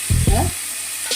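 Chicken steak fries in a pan with a constant close sizzle, while two short low thumps or scrapes sound near the start and a faint clink comes near the end.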